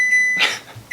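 An oven beeps after preheating, giving a thin, steady electronic tone at the start and again at the very end, with quiet kitchen noise in between.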